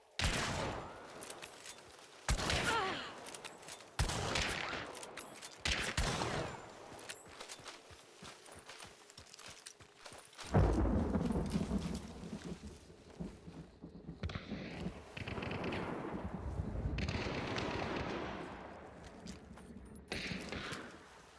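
Hunt Showdown gameplay in a close encounter, several loud gunshot bursts spaced a few seconds apart, then softer rustling movement and footsteps, with ambient noise between shots and no talking.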